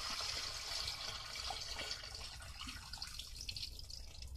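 Rainwater being dumped out of a bucket beside a tent, a close, steady gush and splatter of water that tapers off toward the end.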